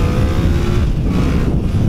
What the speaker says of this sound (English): Oh, just roasted the tire again.